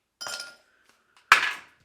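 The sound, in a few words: ice clinking into a glass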